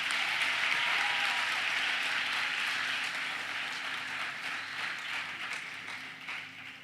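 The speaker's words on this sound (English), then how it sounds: "So another round of applause for your" A crowd of new students at a university welcome ceremony claps in a dense round of applause, loud at first and then slowly fading.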